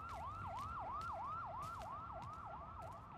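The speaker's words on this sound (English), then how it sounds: "Oh, I hear sirens." Emergency sirens from a video game wail in a steady, rapidly repeating rising-falling sweep, sustained and fairly distant throughout with faint background noise beneath.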